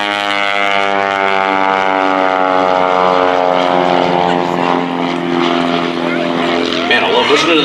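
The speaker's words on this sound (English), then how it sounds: "Listening to that little airplane." A Pitts Special biplane's propeller engine drones steadily and loudly at an air show, its pitch shifting slightly as it passes overhead.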